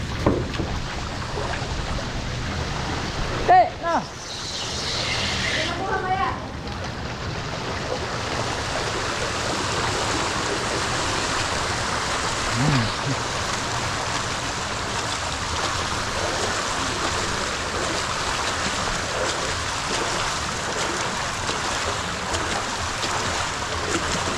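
Water flows steadily toward a basket, a constant broadband rush like a stream that continues close and even throughout, with a brief louder splash or knock near the start.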